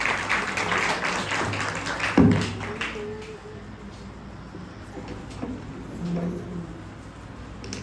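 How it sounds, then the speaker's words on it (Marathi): A small church audience at a Good Friday gathering claps to welcome a speaker, a scattered patter of hands that is fairly faint and fades out within a few seconds, followed by quieter room sounds and a thump. "ते येत असताना आपण त्यांचं टाळ्या वाजून स्वागत करूया."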